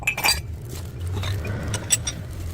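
Cups and mugs found in a dumpster in Korea knock and clink together as they are handled, a few scattered hard taps close by over a steady low background hum.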